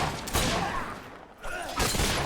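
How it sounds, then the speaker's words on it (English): Gunfire from the video game Fable III comes in two short, rough volleys, one early and one near the end, separated by a quieter lull, fairly loud and with no talk over it. "You keep shooting that thing."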